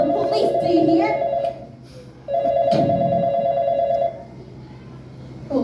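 Stage-play telephone ringing in two long bursts separated by a short gap, loud and close, with a voice speaking around the rings.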